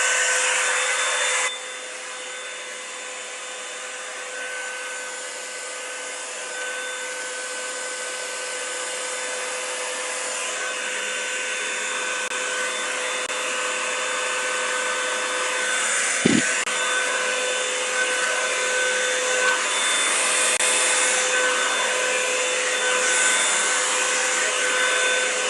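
A hair dryer blows on hair after a braid takedown, giving a loud, steady, close rushing roar throughout with only slight changes in tone and no speech.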